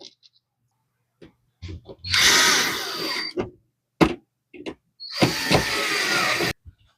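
A power driver runs screws back into an HP OfficeJet Pro printer in short separate bursts of whirring, loud and close, with quiet clicks and handling noises between them.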